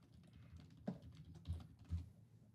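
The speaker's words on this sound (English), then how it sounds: "I will say I love this new keyboard over here. Yeah, It types so much better." Fingers tapping on a computer keyboard, a faint, quiet patter of key presses with a few slightly firmer strokes, heard alone without talk.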